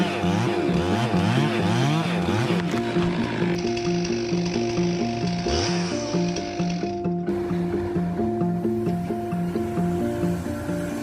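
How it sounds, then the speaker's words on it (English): A Stihl MS441 chainsaw cutting through a broken white pine, its engine loud and close with rhythmic revving surges, and the pitch shifting partway through the cut. "MS441 chainsaw, he quickly removed the broken white pine."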